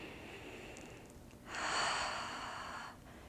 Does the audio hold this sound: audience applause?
no